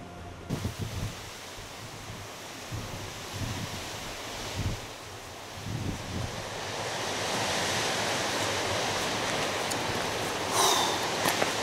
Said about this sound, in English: Whoa, by God, is it blowing a gale.